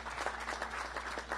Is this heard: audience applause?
yes